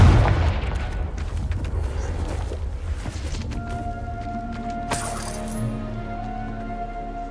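A Confringo blasting spell explodes in Hogwarts Legacy, a loud booming burst that decays into rumbling with a sharp crack midway and ringing tones fading out.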